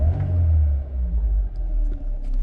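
Carbureted 1986 UK-spec Mercedes-Benz 200 W124 engine idling steadily after starting, a low, smooth, even rumble close by with no voices.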